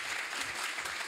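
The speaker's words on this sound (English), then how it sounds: "A big round of applause for all the questions asked" Audience at a science talk applauding after a question session, a brief, dense burst of many hands clapping, faint and somewhat distant, with no voices over it.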